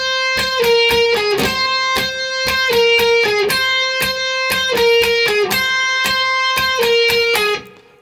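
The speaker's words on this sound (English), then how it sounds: "I'm using a Sir Riot distortion pedal" Distorted electric guitar played through a Sir Riot distortion pedal, a rhythmic intro of repeated chopped chords with short gaps, loud and close, ending in a quick fade.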